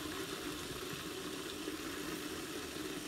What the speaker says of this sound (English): we're going to reduce the heat and put this on simmer